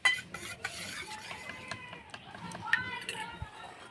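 A spoon stirs raw milk and rice flour together in a bowl, producing soft scraping and clinking taps against the dish, with faint background household noise throughout.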